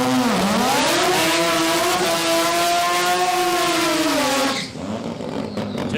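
Turbocharged 13B rotary engine in a Mazda RX2 drag car revving hard at a dragway, a loud, close, buzzing howl that holds steady, dips and climbs, then cuts off sharply near the end.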